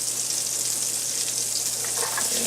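Mushrooms and onions fry in butter over medium-high heat on an electric stove, giving a loud, steady, close sizzle with no pauses.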